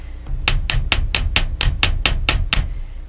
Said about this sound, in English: a bench block and a chasing hammer